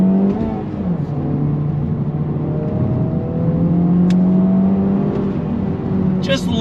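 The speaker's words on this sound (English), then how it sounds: "get into my Type R and go on throttle" A 2023 Honda Civic Type R FL5 accelerating hard on throttle, the engine note climbing steadily through the revs with a brief shift dip, loud and close from inside, with some talk mixed in.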